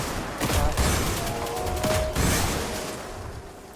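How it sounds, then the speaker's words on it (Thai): An explosion and gunfire during a co-op Destiny 2 mission on Nessus, with dense bursts of blasts and crackling shots close by and a faint tone running through them, tapering off toward the end. "ระเบิดนะ"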